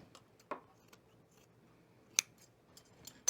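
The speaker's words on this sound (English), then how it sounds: "I'm gonna trim this down a little bit. Oh my gosh, my scissors." Scissors make a few sharp, quiet snips while trimming a knit hedgehog pet toy, as isolated clicks spaced apart in a quiet room.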